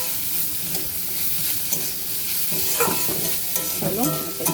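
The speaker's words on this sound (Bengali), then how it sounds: "নাড়াচাড়া দিয়ে এগুলোর সাথে ভাজা ভাজা করে নেব।" Cashews and melon seeds frying in a pan for a special chicken curry, a steady close sizzle with stirring scrapes and clinks throughout, no talk.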